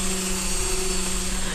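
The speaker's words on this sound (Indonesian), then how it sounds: "Ini menggunakan mesin random orbital sander seperti ini" Random orbital sander, a DCA ASA 125 machine, smoothing the edge of a wood panel for a wall-mounted study desk, a steady close motor whine with constant buzzing hum throughout.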